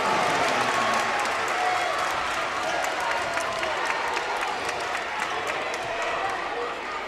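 Loud, dense crowd noise fills a high school boys basketball gym during a Mountainside vs Sunset game, with sustained cheering and clapping that stays steady and close throughout.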